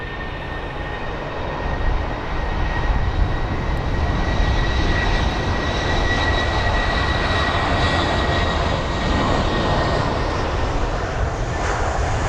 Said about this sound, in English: That's the A320.